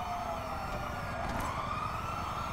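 Police sirens wail steadily at a distance in Grand Theft Auto 5, a continuous rising and falling tone over a dense rumble of game noise, with no talking.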